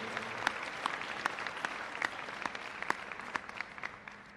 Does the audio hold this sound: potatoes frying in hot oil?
no